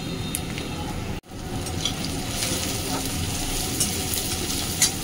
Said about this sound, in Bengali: এই যে পেঁয়াজটা ভালো করে একটু লাল লাল করে ভেজে নিতে হবে